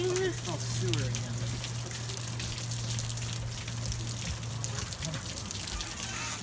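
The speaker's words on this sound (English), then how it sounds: "It is pouring." Heavy rain pouring down in Lake Elsinore, with water gushing and running into a street sewer drain, a steady broadband wash that holds at a constant level throughout, close by, with a low hum underneath.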